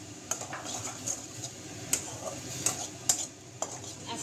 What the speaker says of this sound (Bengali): এখন সেটা ভালো করে কষিয়ে নিচ্ছি।